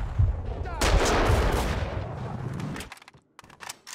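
Sniper rifle gunfire in the video game Max Payne 2, a close heavy blast and rumbling echo that fades, then a few sharp clicks and small impacts.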